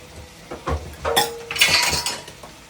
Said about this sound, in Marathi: मी 3 शिट्ट्या करून घेतल्यात कुकरच्या. कुकर ओपन करते आता.